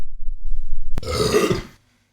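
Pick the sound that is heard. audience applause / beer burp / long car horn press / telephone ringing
beer burp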